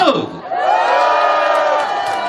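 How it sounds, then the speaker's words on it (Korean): An audience at a lively outdoor sing-along event breaks into loud, sustained applause mixed with cheers and whoops, close and crowd-filling, following a brief shout at the start. "여러분 박수!"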